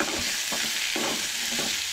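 Onions sautéing and being stirred in a pan for a Goan-style mushroom curry, a steady close sizzle with a few scraping stirs, no talking.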